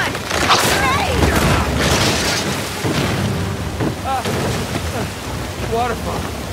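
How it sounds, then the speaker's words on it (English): Roar of a waterfall in the video game Uncharted 4, a loud, steady broadband rush of water with rumbling booms, under excited shouting voices throughout. "Waterfall!"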